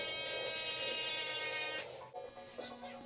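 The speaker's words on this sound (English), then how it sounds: "I'm just gonna bald it out real quick with the Andy shaver" An electric shaver buzzes loudly and steadily up close while shaving a head down to the skin for a low bald taper fade, then cuts off abruptly, leaving quiet handling noise.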